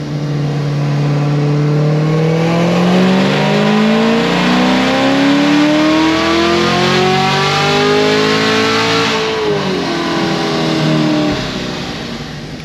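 A Chevrolet Camaro ZL1 running on pump gas makes a loud, continuous full-throttle pull, its engine note climbing steadily in pitch without an upshift before easing off near the end.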